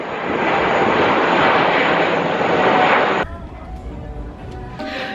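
Aircraft engine roar from planes taking off and landing near London, heard from a 14th-floor rooftop bar: a loud, steady rumble for about three seconds that suddenly drops to a quieter distant hum with faint background noise.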